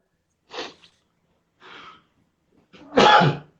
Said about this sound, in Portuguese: tô espirrando